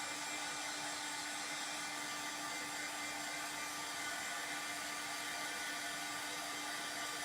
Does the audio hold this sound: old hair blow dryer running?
yes